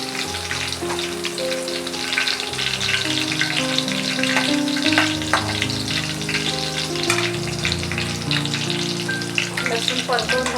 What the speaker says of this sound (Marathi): आता मी यामध्ये थोडा लसूण घालत आहे.